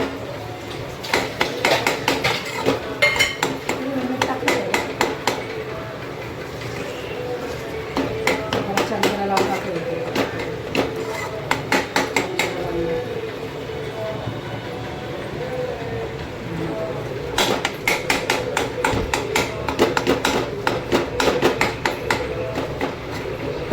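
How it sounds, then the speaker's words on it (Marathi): Tomatoes are chopped finely on a board for paneer bhurji, making rapid bursts of sharp knife taps separated by short pauses, with voices in the background. "टमाटर थोडे बारीक करते मी."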